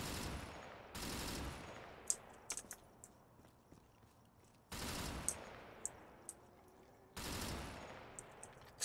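Loud gunfire from a weapon in Call of Duty Zombies, heavy sustained bursts of shots that start and stop in three separate volleys, with sharp scattered impacts and clicks between them.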